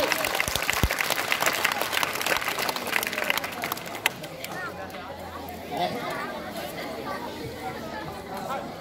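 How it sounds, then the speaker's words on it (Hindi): An audience at a school quiz for Children's Day claps loudly for about four seconds, then the applause fades into crowd chatter and murmuring voices. "जोरदार ताली।"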